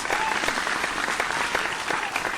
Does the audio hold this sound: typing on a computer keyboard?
no